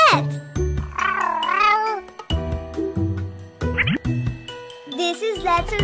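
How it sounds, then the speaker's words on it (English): Cartoon cat meowing in a children's ABC nursery rhyme song, several sweeping meows over bright musical backing with chimes and tinkles, loud and close. "C is for cat."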